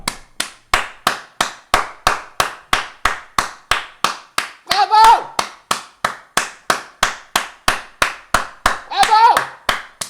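A long run of sharp, evenly spaced handclaps, about three per second, given as applause for a live-stream viewer. Two brief vocal bursts rise over the claps partway through.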